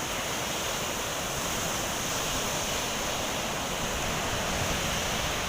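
Strong ocean surf roars steadily throughout, a dense wash of crashing waves with no pauses, close and loud, with wind noise blending in.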